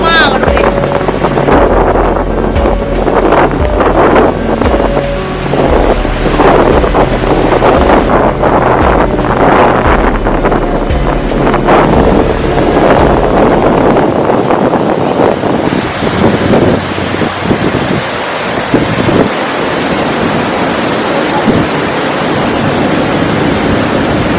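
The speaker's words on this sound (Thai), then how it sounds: "ดูคลื่นดิมาแรง" Strong wind buffets the microphone amid rough sea waves and a running boat engine during stormy weather off Koh Kood island, loud and continuous throughout, with people talking over it.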